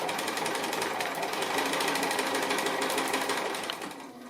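A sewing machine runs steadily, stitching close along the edge of a fabric pocket through stiff interfacing, a fast continuous mechanical whir that slows and fades near the end.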